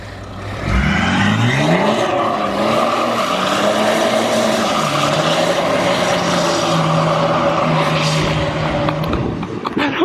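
A BMW E92 330d with coilovers and new wheels drives past. Its engine note rises as it pulls away, then holds a loud, steady drone and rumble close by.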